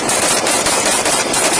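Rapid gunfire captured on police bodycam during a vehicle stop exchange, a dense, loud burst of crackling shots filling the clip with no pauses.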